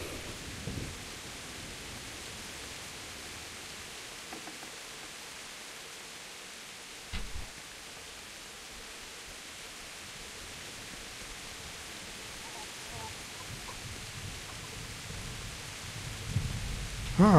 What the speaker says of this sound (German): Ja toll, das regnet jetzt noch.